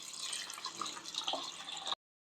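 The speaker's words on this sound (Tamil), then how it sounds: "தண்ணி ஊற்றுறேன்." Water is poured into a pot while making mutton dum biryani, a short splashing, gurgling stream lasting under two seconds before cutting to silence, close and fairly quiet, with no voices.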